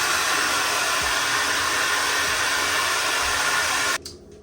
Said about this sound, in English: And then I'm gonna blow dry that down.